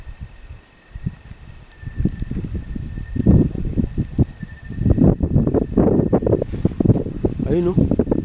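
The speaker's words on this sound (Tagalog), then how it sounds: "Wala kasi mahangin Luy." Wind gusting outdoors at night, rough buffeting noise on the microphone that swells and rises in the second half, with faint talk in the background.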